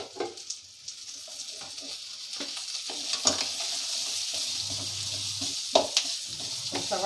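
Onions with garlic and ginger sizzling in hot oil, with scraping and stirring noises and occasional clinks of a spoon against the pan, building to a steady fry.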